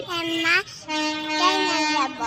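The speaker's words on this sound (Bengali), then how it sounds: "ওই ট্রেন গাড়ি চলে এসছে" A train pulls into a station and sounds its horn in long, loud, sustained blasts close by, with a short break between them.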